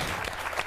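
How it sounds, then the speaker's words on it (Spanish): A short burst of applause from a game show audience, with dense clapping and no one speaking. "¡Un aplauso para ella!"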